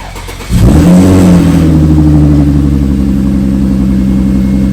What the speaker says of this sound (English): let's try the A7 with the mufflers delete